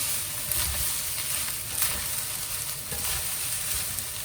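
Char siu fried rice with pepper sizzles steadily in a hot pan while being stir-fried, a close, continuous hiss broken by light scraping and tossing, with no talking.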